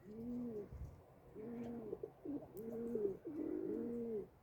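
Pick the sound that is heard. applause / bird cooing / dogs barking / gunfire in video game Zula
bird cooing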